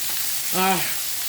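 Pork sears in a hot pan, a steady sizzling hiss with a brief voice rising over it midway.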